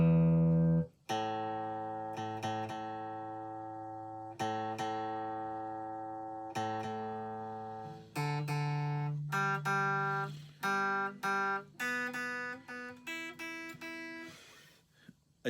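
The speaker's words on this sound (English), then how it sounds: "Let me just see what my chord sounds like" A Westfield Les Paul-style electric guitar, played clean with worn tuners, rings out in a series of strummed chords, several long sustained strums followed by quicker repeated ones, clear and close with no talk.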